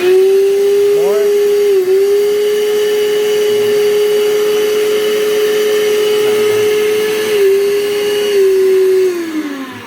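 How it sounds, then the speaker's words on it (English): A blender motor whines loudly and steadily while it mashes strawberries, its pitch dipping briefly twice under load, with a voice faintly underneath. "you need to mix up the strawberries inside of the blender so that they can, be properly blended"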